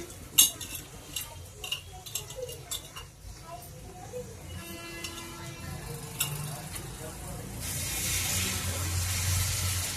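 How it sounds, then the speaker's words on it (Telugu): Tamarind juice poured into a simmering egg curry, a wet splashing pour with light clinks of a utensil against the pot, under a voice talking. "ఇప్పుడు చింతపండు రసం కూడా వేసేసుకుందామండి."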